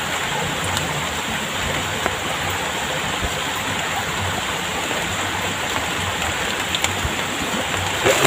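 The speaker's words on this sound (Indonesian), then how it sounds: "Udah hujan." Steady rain falls at a riverside fishing spot, a dense, even hiss of drops on water and ground with no break and no voices.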